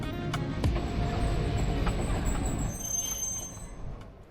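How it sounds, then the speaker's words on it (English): A sleeper train on Europe's oldest route approaching Cluj-Napoca station in Romania, with a steady rolling rumble, thin high wheel squeals and intermittent clacks over the rails, heard from aboard at moderate loudness. "Our train is now on the approach to Cluj-Napoca, the second largest city in Romania and the largest in Transylvania."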